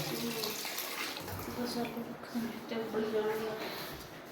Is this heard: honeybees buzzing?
no